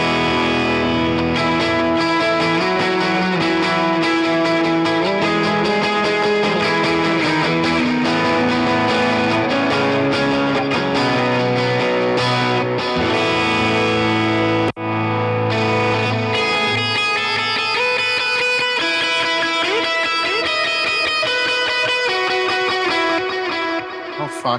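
Clean electric guitar rhythm tone through an M-Vave Blackbox set for worship sounds, with strummed chords ringing out under lush reverb and modulation, steady and full, with no voices.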